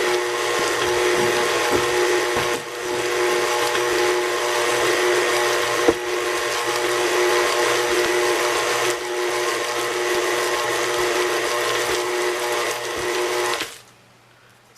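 Stand mixer fitted with a dough hook breaking down leftover pie, a loud continuous motor whir and rattle running steadily for about fourteen seconds with brief dips, then cutting off abruptly at the end.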